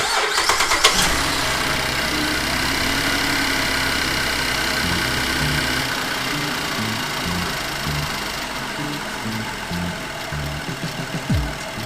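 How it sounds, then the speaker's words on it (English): A 2007–2017 GMC Acadia engine cranks briefly and fires up after a spark plug replacement, then settles into a steady, close mid-pitched idle with slight fluctuations and no talking. "we're just going to fire it up and see if she starts."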